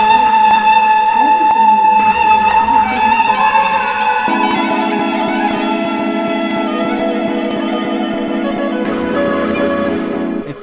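Kaval flute, a traditional end-blown wooden flute, playing a sustained melody over a droning accompaniment, loud and alone with no talk.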